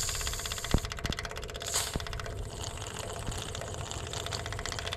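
Facet electronic fuel pump on a 7.3 Ford F250 diesel buzzing steadily as it fills the fuel filter, a continuous whirring hum with a few sharp ticks and clicks near the start.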